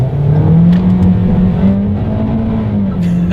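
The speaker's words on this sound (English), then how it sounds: "let's do a quick little acceleration test" 2020 Toyota Corolla accelerating hard in sport driving mode on a wet road, a loud steady engine drone heard from inside the cabin, its pitch rising slowly and holding, with no talk.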